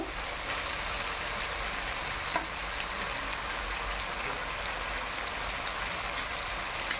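Leafy greens sizzling in a hot pan while a Bengali sour vegetable dish is cooked, a steady hiss of frying that stays even throughout.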